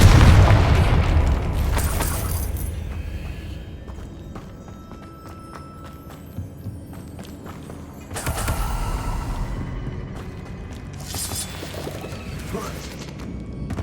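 In the video game Hogwarts Legacy, a Confringo fire spell bursts with deep booming blasts, one at the start, then another around the middle followed by further crackling impacts, with quieter lulls between the explosions.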